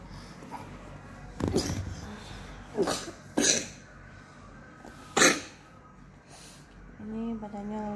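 A child with a flu cough coughs several times in short separate bursts, close by, with quiet pauses between and a brief voiced sound at the end.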